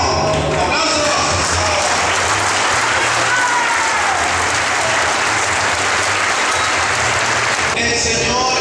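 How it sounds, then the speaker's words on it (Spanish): Crowd applause during a procession from a park to the main church in Cintalapa, dense and continuous clapping at close range running nearly the whole clip. "Ánimo, aplausos."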